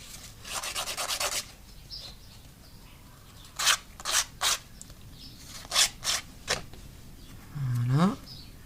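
A file rasping down the plastic diving lip of a fishing lure: a sustained scraping burst, then several short separate strokes, close and fairly loud, with a brief voice-like sweep near the end.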